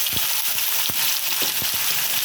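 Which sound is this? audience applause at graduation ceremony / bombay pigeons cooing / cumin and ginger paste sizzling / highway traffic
cumin and ginger paste sizzling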